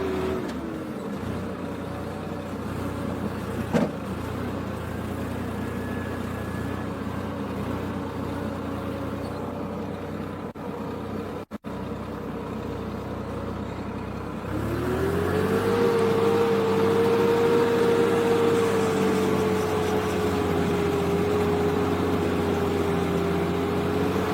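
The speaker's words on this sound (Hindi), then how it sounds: "अब ट्रैक्टर की आवाज़ है" A tractor engine runs while ploughing a field at an ashram in Sirsa, a steady low drone that grows louder and takes on a higher, sustained whine partway through, with no voices.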